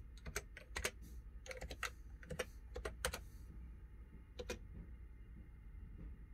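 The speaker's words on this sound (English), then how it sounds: "There's the keyboard." Packard Bell computer keyboard being typed on in bursts of sharp close clicks, quick runs of keystrokes with short pauses, faint against a quiet room hum.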